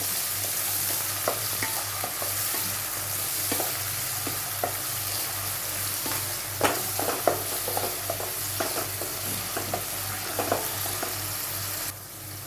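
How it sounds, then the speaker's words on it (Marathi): Onion and tomato sautéing in hot oil for a baingan masala, with a steady sizzle under repeated sharp scrapes and taps of a spatula stirring the pan. "त्यामध्ये मी हा कांदा आणि टोमॅटो घालून घेते आणि हा व्यवस्थित परतून घेऊया।"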